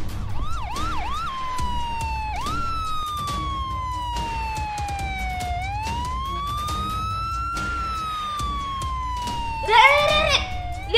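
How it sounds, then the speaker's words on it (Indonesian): Ambulance siren caught on a CCTV camera outside a house, a loud wailing tone rising and falling in long sweeps with a short yelp near the start and extra squeals near the end, over faint street noise and a little talk. "Ah, ambulan biasa."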